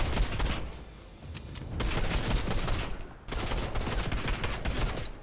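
Dense video-game gunfire in rapid, sustained bursts that fill the clip, loud and close, with brief lulls between volleys and no talking over it.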